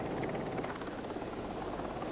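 A Royal Navy Sea King helicopter on a ship's deck gives off a steady, loud rotor and turbine roar that holds at an even level with no pauses.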